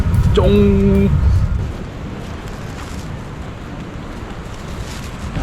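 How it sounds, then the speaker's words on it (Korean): Flowing water near Kuang Si waterfall in Luang Prabang, Laos: a steady, broad rushing wash that fills the whole clip, with a brief voice sound at the start before the water carries on alone. "물 소리가 나기 시작하네요"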